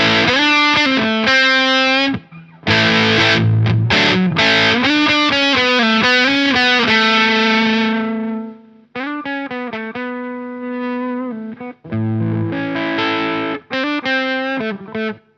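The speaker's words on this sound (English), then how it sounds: "I've got humbuckers, of course, right now. So this is with the fuzz on." Electric guitar with humbucker pickups played through a Solaris Pro fuzz pedal with built-in boost, loud saturated distorted chords and riffs in several phrases with brief gaps between them, no talking.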